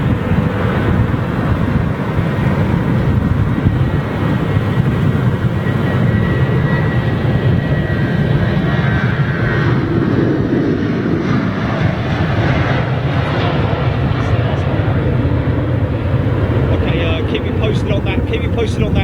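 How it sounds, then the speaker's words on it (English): An airliner taking off on an intersecting departure at Heathrow Airport, heard as a loud, continuous jet engine roar that stays strong throughout, with a voice talking over it. "this is what we call an intersecting departure, folks, where the aircraft goes out a little bit further down the run"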